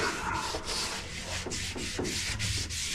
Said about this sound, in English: I'm gonna come through with a scuff towel, with a scuff pad